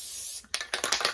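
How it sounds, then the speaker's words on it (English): A steady hiss of spray onto a Dollar Tree container for a moment, then a run of light clicking and tapping close by. "I'm just going to spray"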